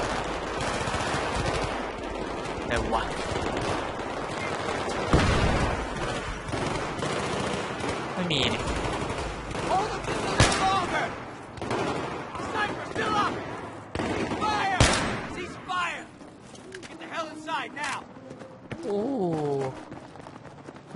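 Rapid automatic gunfire and scattered shots from a Battlefield 3 match fill the whole stretch, loud and dense with bursts and sharper single cracks, while someone talks over the shooting.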